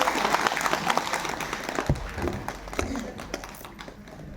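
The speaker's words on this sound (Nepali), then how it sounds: "एकपल्ट जोरदार तालीले सम्मान गर्नुहोस्" Crowd at a yoga camp clapping to honour guests, a busy patter of hand claps with sharper individual claps standing out, gradually thinning over a few seconds with murmured voices underneath.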